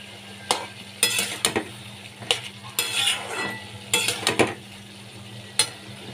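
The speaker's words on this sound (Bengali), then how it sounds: "এবার সবগুলোকে একসাথে আমি মিশিয়ে নিচ্ছি।" Chichinga (snake gourd), prawns and potatoes being stirred with cumin powder in a pan, a spoon scraping and clinking in irregular bursts over a steady low sizzle, close and moderately loud.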